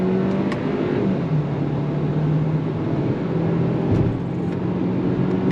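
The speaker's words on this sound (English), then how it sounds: "So you're gonna get a little quicker acceleration sensation by using the paddles." A 2024 Hyundai Kona Limited SUV accelerating with paddle-shift gear changes, heard from inside as a steady engine drone with rising tones that step down at shifts, loud and continuous with road noise.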